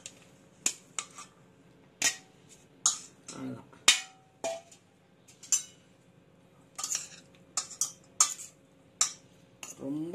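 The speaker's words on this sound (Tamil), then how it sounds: "பண்ணிட்டு இந்த பாஸ்தாவை இதில் நம்ம கலந்துடணும்." Pasta is tossed into basil pesto with a utensil, giving a string of sharp metallic clinks and scrapes against the bowl at irregular intervals over a quiet background.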